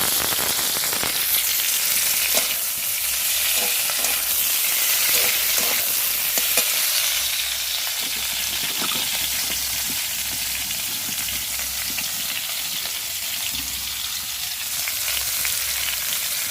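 Cauliflower pieces frying in a wok, a steady, loud, bright sizzle with occasional stirring scrapes running throughout, no talking.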